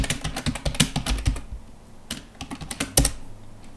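Rapid keystrokes on a computer keyboard as a password is entered, bursts of close, crisp clicks with a short pause midway, then a few more taps, no voices.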